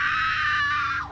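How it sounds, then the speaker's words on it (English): A girl screams from behind a wall in the 1998 video game Resident Evil 2: one sustained, shrill, piercing cry that holds loud and steady before tapering at the end. "I hear a girl scream from the other side of the wall."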